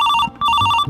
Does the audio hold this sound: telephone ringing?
yes